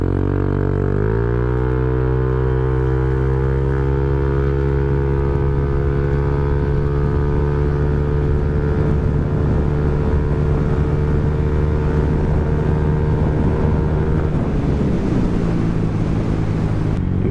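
A Honda Click 160 scooter with a racing pulley upgrade accelerates hard on a 0-100 test run, its engine drone climbing steadily in pitch amid heavy wind rush, loud and close, then easing off near the end.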